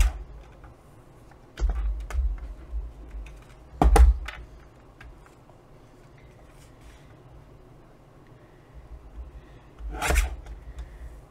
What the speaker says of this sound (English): we're going to cut these right along that line on our trimmer